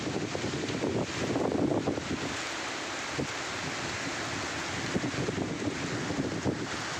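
Strong storm wind gusting through bending trees in a village, a loud continuous roar with buffeting on the microphone, steady throughout with no talk.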